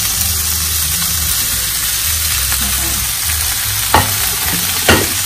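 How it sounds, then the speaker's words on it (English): Korean fish cake (odeng) stir-fries in a hot pan over medium heat, a steady broad sizzle under a low hum, with two sharper scraping stirs near the end. "Stir fry this cake."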